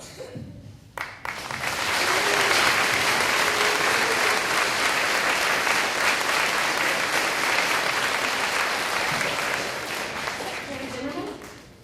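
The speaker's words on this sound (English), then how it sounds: "we've applauded for the governor" Audience at a Military Kids Day school assembly breaks into loud, sustained applause after a South Dakota governor's proclamation, building quickly and holding steady for about ten seconds before tapering off.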